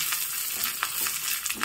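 Fenugreek, black pepper, ginger and garlic fry in a pan with a steady, loud crackling sizzle and a few sharper pops, with no voices.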